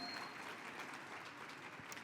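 Convention audience at the LULAC National Convention clapping for a senator's speech, a steady, moderately distant wash of applause that holds evenly throughout.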